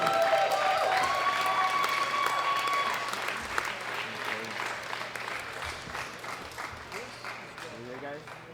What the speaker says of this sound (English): Big round of applause for Dalton